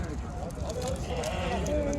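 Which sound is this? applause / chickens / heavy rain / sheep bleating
sheep bleating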